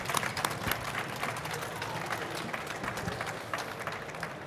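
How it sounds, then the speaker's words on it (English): Live audience at a Star Wars fan convention gives a steady round of applause, a dense wash of clapping with crowd noise throughout. "Everybody, please give it a big round of applause for Mark."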